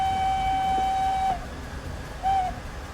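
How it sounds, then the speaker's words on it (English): Steam whistle of an SDJR 7F 2-8-0 locomotive in Train Simulator Classic: one long steady blast of over a second, then a short second toot, loud and clear over rumbling running noise. "Yeah, I do really like that whistle."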